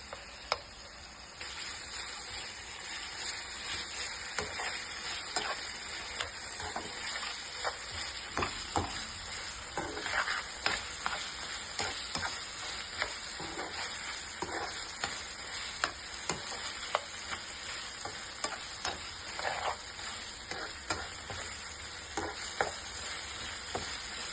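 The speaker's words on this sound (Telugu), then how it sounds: "మనం ముందుగా మ్యాగ్నేట్ చేసి పెట్టుకున్న చికెన్ కూడా వేసుకొని బాగా కలుపుకోవాలి" Marinated chicken fries with green chillies in a hot pan for Telugu-style chicken fry, a steady, close sizzle with scraping stir strokes and small crackles throughout, no talking.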